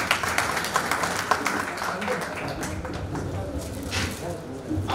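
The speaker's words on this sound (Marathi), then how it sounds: "टाळ्या होऊया जरा" Audience applause at an award ceremony during an Ahirani poetry gathering in Nashik: a dense, steady wash of many hands clapping for the whole stretch, mixed with voices in the crowd.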